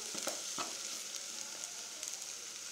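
Chili powder fries in hot oil with a soft, steady close sizzle broken by a few sharp crackles near the start, fairly faint overall and without talk.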